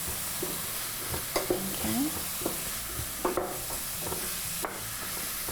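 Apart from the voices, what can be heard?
stirring beef and rice filling with smoked paprika in pan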